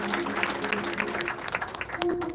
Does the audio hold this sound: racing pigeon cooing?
no